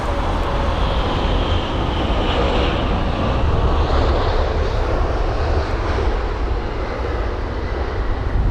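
A British Airways Boeing 787-10 Dreamliner arriving at London Heathrow from Seattle gives a loud, steady jet-engine roar, broad and rumbling, holding close throughout.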